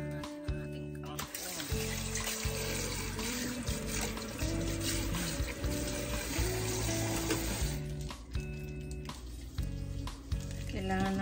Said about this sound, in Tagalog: Yan, hugasan na natin ang ating kangkong.